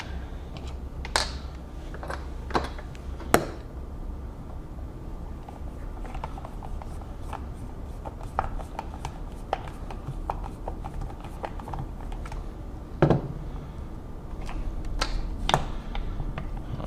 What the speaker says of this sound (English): So I'm gonna screw in the four corners under the feet.